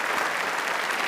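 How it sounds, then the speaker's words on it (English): Audience applause for graduates at a business school hooding ceremony: a steady, dense wash of clapping from a large crowd, even in level throughout the short stretch. "let me give a big round of applause to our graduates here at this"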